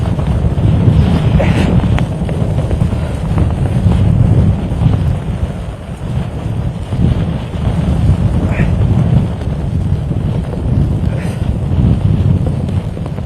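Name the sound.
strong cyclone wind blowing during Cyclone Fengal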